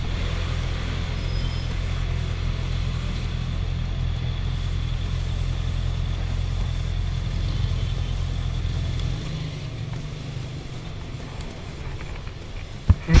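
A Honda CB650R motorcycle engine while riding, heard as a steady, loud low drone and road rumble that eases slightly toward the end, with a couple of sharp knocks at the close.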